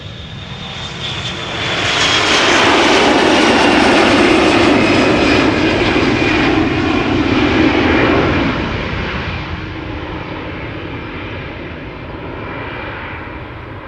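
An SAS jet on flight 552 departing for Copenhagen, a loud engine roar that builds quickly, holds strong for several seconds with a high whine, then eases off as it passes into the distance.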